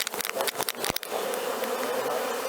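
Honey bees swarming around an opened hive during a beekeeping inspection for varroa control, a dense steady buzz that swells and continues loudly throughout, with a few sharp handling clicks and knocks early on.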